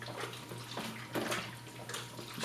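Liquid C-41 chemicals slosh inside a 4x5 film development tank as it is turned upside down, soft watery swishes rising and falling with one stronger surge midway.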